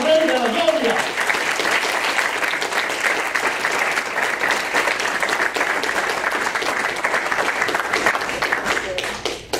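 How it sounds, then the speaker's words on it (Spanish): Congregation at a Spanish-language Catholic worship service applauds loudly and steadily throughout, with voices mixed into the clapping. "Démosle un aplauso al Rey de la Gloria."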